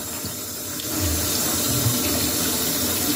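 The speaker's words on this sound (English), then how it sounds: "So we're gonna start with cold water only." Cold water runs steadily from a tap into a sink while a ceiling light cover is washed, a continuous close rushing splash with some low sloshing partway through.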